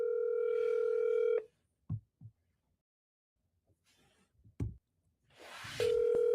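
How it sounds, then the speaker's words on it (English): A telephone line rings out on an outgoing call: two steady tone bursts separated by silence, with a few faint thumps and brief noises in between. "Let's see if he answers the phone."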